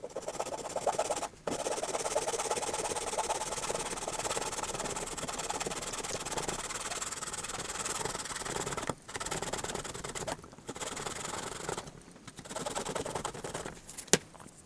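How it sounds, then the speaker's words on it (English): A hand saw cuts through a wooden post for a toy display stand, a steady rasping back-and-forth scrape running for several seconds with a few brief pauses, close and fairly loud, no talk. "let me get the saw out and we'll get that piece cut and see what works."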